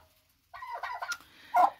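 Several turkey hens call in short, high, squawky bursts after a moment of silence, close by and fairly quiet, the last call the loudest.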